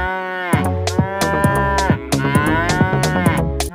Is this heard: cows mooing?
yes